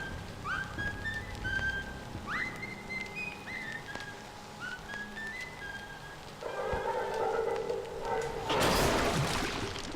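Several short rising and falling whistles, fairly faint, drift over a steady background hiss that swells into a louder noisy rush near the end.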